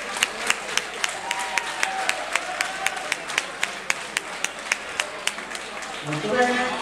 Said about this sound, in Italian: un applauso, grazie, un incoraggiamento.